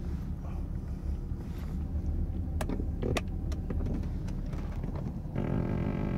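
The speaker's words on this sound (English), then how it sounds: "Car has the power tilt seat." The power tilt seat motor in a 1985 Jaguar XJ6 runs as a steady low electric whir inside the cabin, with a couple of faint clicks midway and a slight shift in tone near the end.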